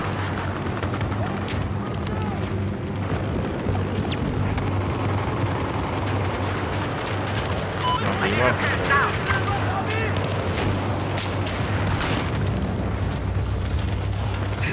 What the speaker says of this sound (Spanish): Muchos disparos ahí